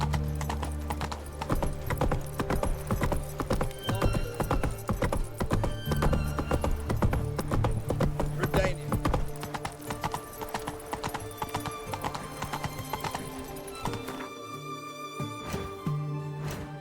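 A horse in The Witcher 3 gallops with rapid rhythmic hoofbeats, loud and close over a busy game soundscape, with whinnies mixed in before the hooves drop away near the end.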